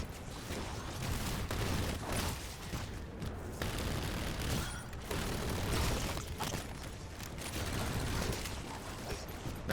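Gunfire in the Black Ops 7 Zombies game, aimed at a statue head: rapid, dense volleys of shots with mechanical clanks and rumbling blasts, loud and continuous with brief dips.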